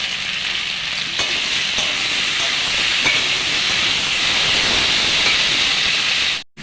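Chopped tomato with spices fries in a hot pan, giving a loud, steady, close sizzle and steamy hiss that runs unbroken for several seconds before cutting off abruptly, with no talking.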